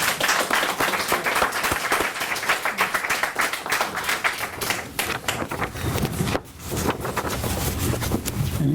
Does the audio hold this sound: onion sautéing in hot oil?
no